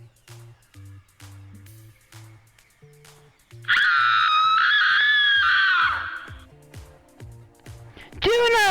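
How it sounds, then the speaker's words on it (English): Over a quiet pulsing music bed, a girl lets out a long, loud, shrill scream as she is pushed off a railing, wavering for about two seconds before fading, followed by another sharp cry at the end. "Juna screams as she's pushed off the railing."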